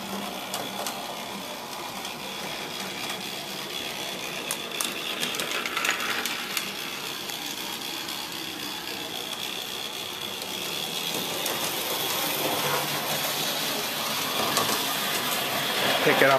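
Scratch-built O gauge brass trolley chassis with its small motor and gears running, a steady mechanical whir that rises slightly as speed increases, close and continuous throughout.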